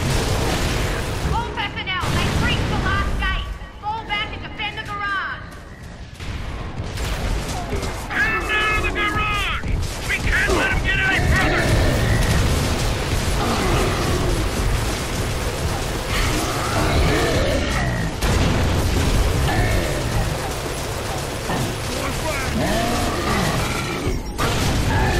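Mounted turret firing in Gears of War 3, heavy booming bursts and mechanical clatter layered over constant game action and noise, with a player's voice talking at times.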